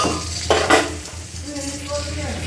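Vegetables stir-fried in a pan with chili and turmeric: close spoon scrapes and clatter over a soft sizzle, with two sharper stirring strokes early on.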